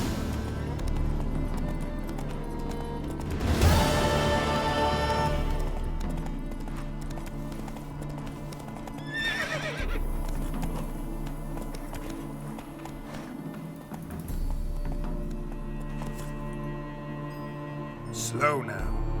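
Roach the horse in The Witcher 3 galloping with steady rhythmic hoofbeats, breaking into a loud whinny early on and another neigh later, with music and a voice layered over the running.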